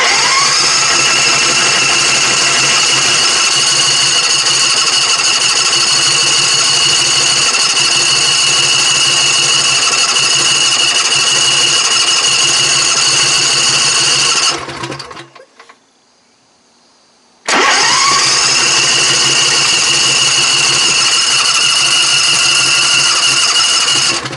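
A propane-fuelled race mower engine is cranked over and over without firing: a loud, steady mechanical whirring runs for about fifteen seconds, cuts out briefly, then resumes just as strongly.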